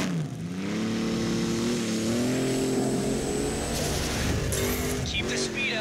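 A race car engine in The Crew video game drones and revs steadily through a shakedown lap, its pitch rising and falling under someone talking over the gameplay.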